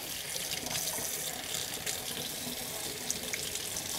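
Water runs steadily through an airbrush being rinsed out after painting, a constant close hiss and splash like a faucet stream, with no voices.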